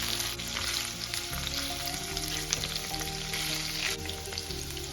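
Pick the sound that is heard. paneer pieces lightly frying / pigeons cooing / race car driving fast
paneer pieces lightly frying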